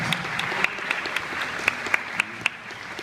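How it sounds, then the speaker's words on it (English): An audience claps steadily, a bright patter of many hands with a few sharper claps standing out. "So yeah, big applause. Big applause."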